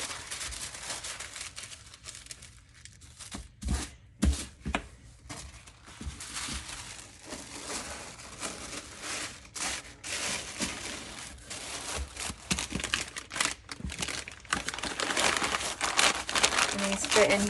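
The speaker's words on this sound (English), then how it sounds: "tissue paper." Tissue paper crinkles and rustles continuously while an online Etsy order is wrapped and packed, with bursts of crumpling and handling noise rising and falling close by.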